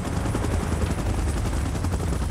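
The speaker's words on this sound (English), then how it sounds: "Chopper in position." Helicopter in the PUBG Mobile video game, a loud, dense, continuous rotor roar with gunfire-like bursts mixed in and no pauses throughout.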